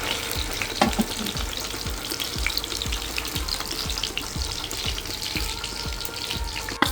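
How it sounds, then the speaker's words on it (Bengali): Fish fries crisply in a pan of hot oil after being flipped to cook the other side: a steady, close, dense sizzle with soft crackles throughout and no talking. "এখন আর এক পিট হওয়ার জন্য উল্টে খুব ভালোভাবে কড়া করে ভাজা হয়েছে"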